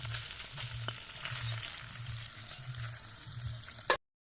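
Tilapia fish frying in hot oil in a pan, a steady close crackling sizzle that runs quietly and evenly, ending in one sharp knock.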